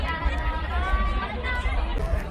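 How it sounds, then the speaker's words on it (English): A dense crowd murmurs and chatters steadily at a Halloween firework display in Belfast, many voices blending into a continuous hubbub on a cold night. "There's a lot of crowds here."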